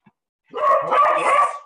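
Two guard dogs bark indoors at home, a loud, close burst of rough, overlapping barks lasting about a second with no talk over it.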